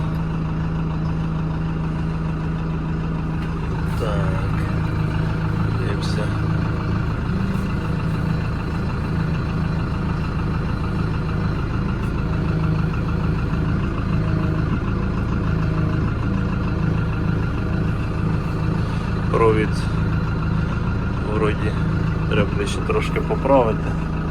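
A Lovol P4110 tractor pulls away in first gear in its slowest range, its engine droning low and steady with a few clanks and clicks, while someone talks over it.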